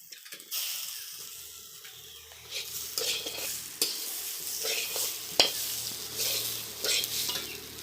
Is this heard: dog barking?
no